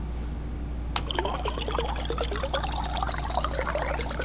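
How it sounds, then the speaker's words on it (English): A character drinks water in the video game Stationeers: a sharp click, then a steady run of trickling, gulping liquid sound with faint ambient hum beneath. "I'm quickly going to take a slurp of water"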